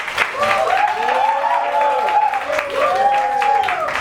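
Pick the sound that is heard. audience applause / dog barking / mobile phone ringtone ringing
audience applause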